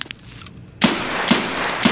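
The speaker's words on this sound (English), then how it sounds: "Okay, Dante, shoot me 5 times." Three sharp, loud gunshots from a video game ring out at evenly spaced intervals after a quiet start, each a crisp close blast with a short ringing tail.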